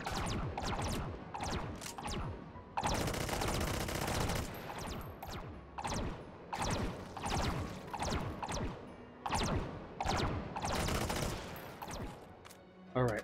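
Dense bursts of enemy gunfire in the VR shooter Hot Dogs, Horseshoes & Hand Grenades, rapid automatic volleys and sharp single cracks in repeated clusters, loud and close, with brief gaps between the fusillades.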